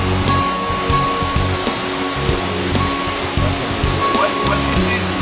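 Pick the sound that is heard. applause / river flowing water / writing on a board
river flowing water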